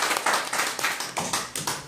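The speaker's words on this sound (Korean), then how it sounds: "우리 박수로 한번 치자." A small audience at a lecture claps their hands, a quiet patter of separate, uneven claps repeating in quick bursts with no talking.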